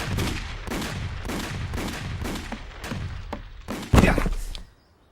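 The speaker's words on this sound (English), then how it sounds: "Fire at will." Cartoon soldiers fire guns at human targets: steady, rapid bursts of gunfire repeat for several seconds, then a heavy, loud blast lands near the end before everything cuts to silence.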